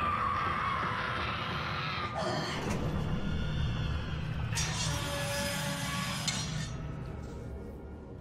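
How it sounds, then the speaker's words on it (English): Eerie scream in Bioshock, a long, wavering high-pitched cry rising and falling over a dense, rumbling game background, with metallic clinks scattered through and a strong second swell near the end. "After that incredibly eerie scream"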